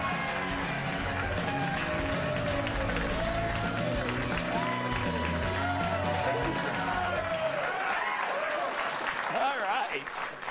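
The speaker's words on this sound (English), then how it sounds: "they're booing before the show starts" Studio audience of The Greg Gutfeld Show booing before the show starts, a dense sustained crowd roar with scattered shouts and whoops, steady and loud throughout before thinning near the end.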